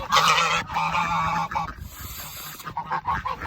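Geese honk loudly and harshly at close range, several blaring calls in quick succession with short gaps between them.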